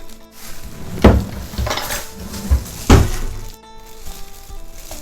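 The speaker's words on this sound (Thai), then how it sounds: "ตักใส่กระทะเลยนะคะ" Metal utensils clank and scrape against a pan a few times, with thick stirring and scooping sounds of mackerel chili paste in between, no talking.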